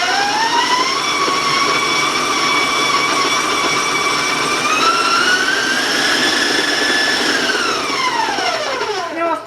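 An electric mixer creams butter and brown sugar in a loud, steady high-speed whine that holds, rises slightly in pitch, then winds down as the motor slows at the end; no talking over it.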